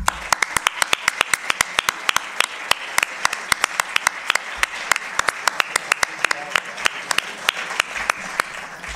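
Strong applause from the audience at a political gathering, with a few sharp, loud claps standing out near the front over a steady bed of clapping from the crowd, continuing evenly throughout.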